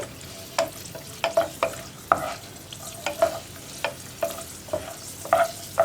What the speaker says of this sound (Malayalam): കണ്ടോ നമ്മുടെ കാഷ്നട്ടിൻ്റെ കളർ മാറി വരുന്നുണ്ട്, റൈസിൻസ് ബബിളായി വരുന്നുണ്ട്.